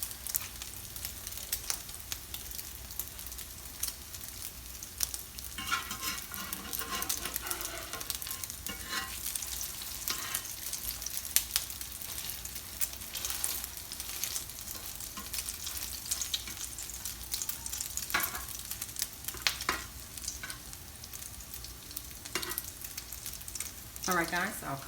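Crab cakes frying in oil in a pan, a continuous crackling sizzle with bursts of popping spatter over about twenty-five seconds, fairly close and moderately quiet, with no talk.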